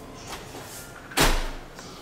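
A house's front door opens with one sharp, loud burst partway through, then a short fading tail, alone against a quiet room.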